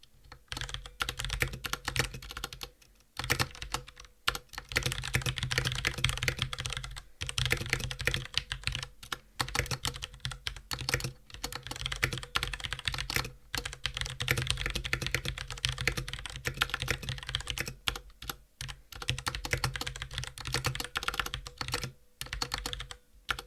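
Steady typing on a mechanical keyboard, close and clear, a continuous patter of clicky keystrokes with short pauses between bursts, heard alone without talk.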